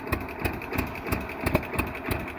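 A propane-powered 1948 John Deere B tractor engine idling nearby with fabricated exhaust and intake, a slow, steady chug of evenly spaced thumps with no voices.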